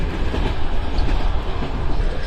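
A passenger sleeper train in Uzbekistan rolls along the rails, heard from inside the car as a loud, steady rumble with rhythmic rattling and clacking and no voices.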